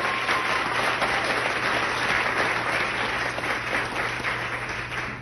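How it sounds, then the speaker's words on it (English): Sustained audience applause at a gala fills the room, a dense, steady wash of clapping from a large crowd with no voices standing out. "Let's give her another big round of applause"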